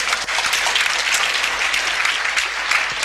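Church congregation applauding during a sermon, dense, sustained clapping that fills the room evenly, loud and close with no speech over it.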